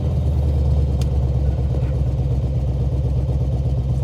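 A big cammed LT1 car engine with a Comp XFi 292 cam idling at a complete stop, a steady loud low rumble with a lumpy, choppy pulse that holds without revving.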